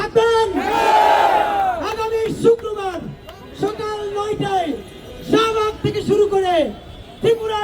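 A rally crowd in Cumilla chants a slogan in unison, loud call-and-response shouts rising and falling in repeated bursts for a long march, voices near and massed together.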